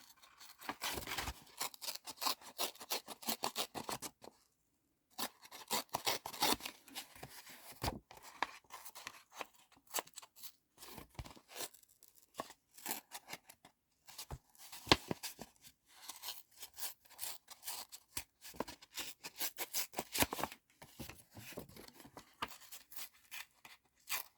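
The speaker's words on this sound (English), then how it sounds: "Just tear that down a tiny bit more." Paper tears and crinkles close up in many short, irregular bursts with brief silent gaps while a gold-edged page is torn down for a bookmark.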